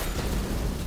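A short, dense burst of a blinding explosion from the Spark of Beacons arc ability in Destiny 2, used by an Arc Titan Striker. It is a loud, noisy blast lasting under a second, with no talk over it.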